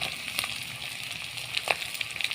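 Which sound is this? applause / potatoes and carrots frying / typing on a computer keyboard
potatoes and carrots frying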